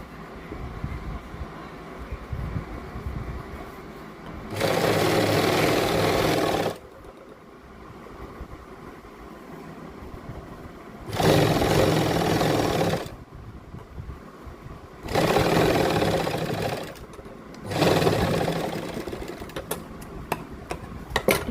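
Close sewing machine stitching a seam over an invisible zip on a kurti, in four loud, steady bursts of whirring separated by quieter gaps of handling noise.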